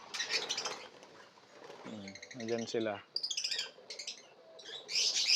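Pet birds in a breeder's aviary, including red-eyes, flutter and chirp in bursts as they are shooed away, their quick calls and wingbeats scattered over a few seconds while someone speaks briefly.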